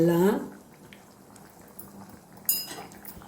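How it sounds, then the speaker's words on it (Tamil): Soft bubbling of ridge gourd kootu simmering in a pot on the stove, with a brief voice at the start and a light clink partway through. "கொதிக்குது பாருங்கள்."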